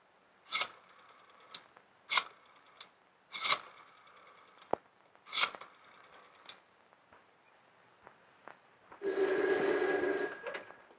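An old 1930s telephone bell rings in short, repeated bursts separated by pauses, followed by a longer, louder continuous ring near the end, with no talk over it.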